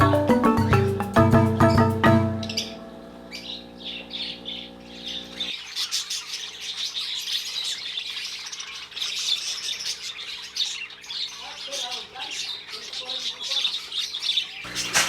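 African lovebirds and parakeets in a home aviary chirp and squawk, with busy overlapping calls close by throughout; an early stretch carries a loud tonal mechanical hum before the birds take over alone.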